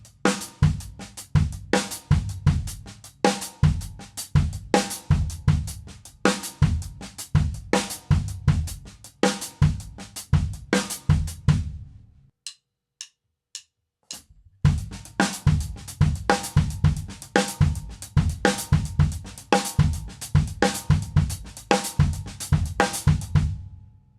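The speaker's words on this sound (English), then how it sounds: "This one will have a bass drum on 1," A linear drum groove puts the bass drum on beat one and on the ends of beats two, three and four, with crisp interlocking hits played close and loud, broken by a brief pause before resuming.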